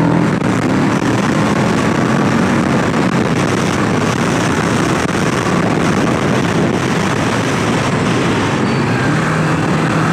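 A Kawasaki Ninja 650 motorcycle ridden through twisty roads, its engine a steady loud drone buried in constant roaring wind buffeting the microphone, with no letup throughout.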